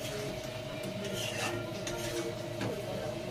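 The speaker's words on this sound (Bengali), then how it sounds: "আলুর দমটা আর একবার ভালো করে নাড়িয়ে নেবো।" A spoon stirs potato dum (aloo dum) in a pot, making faint, soft scraping and rubbing strokes against the pot over a low background, with no voices.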